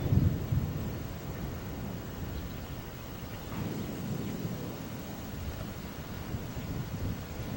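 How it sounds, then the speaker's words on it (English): Low rolling thunder during a storm in Oklahoma, a broad rumbling roar under steady wind noise outdoors, no voices over it. "You can hear the thunder."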